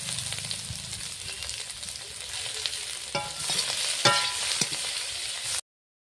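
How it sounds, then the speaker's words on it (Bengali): Fried vegetables are tipped into hot ghee with whole garam masala and bay leaf in a pan, making a steady sizzle that swells with a few sharp scraping stirs and clinks before cutting off abruptly. "সবজি ভাজাগুলো দিয়ে দেবো।"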